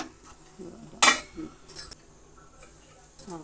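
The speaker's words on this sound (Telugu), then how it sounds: "దీనిపైన మూత పెట్టుకోవాలి" A metal lid is set onto a cooking pot while making traditional Andhra palasakku, giving a bright clink followed by a few lighter rattles and taps amid quiet kitchen background.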